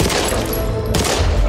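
Rapid gunfire in the video game Back 4 Blood, a loud dense burst of overlapping shots running through the short clip without pause.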